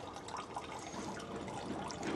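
Water is poured from a ladle at a temple purification fountain in Japan. It makes a faint, soft trickle and splash that continues quietly throughout.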